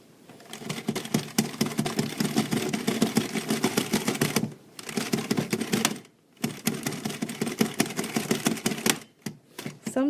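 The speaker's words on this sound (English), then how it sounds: "Let me demonstrate how to knit with this machine, and I'm knitting in the round." An NSI circular knitting machine cranked by hand, knitting in the round: a quick, steady mechanical clatter of rapid clicks in long runs, broken by short pauses, close and moderately loud with no talking.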